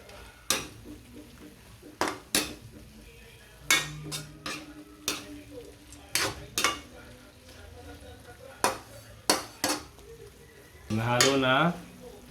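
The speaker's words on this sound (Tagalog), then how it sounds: "Tapos haluin lang natin kaunti." A spatula stirs string bean adobo (adobong sitaw) frying in a pan with ground pepper, giving a steady sizzle and repeated sharp metallic scrapes and clanks against the pan, close up. A brief voice-like sound comes at the end.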